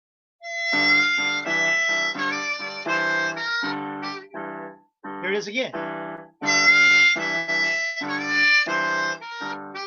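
A harmonica plays a bluesy phrase of rapid chords and bent notes, including a 3 draw half-step bend, with a brief spoken remark in the middle.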